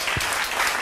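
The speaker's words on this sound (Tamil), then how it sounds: "கைத்தட்டுங்க." An audience applauds during a church sermon, a brief, dense burst of clapping from a crowd that fills the space evenly, with no voices over it.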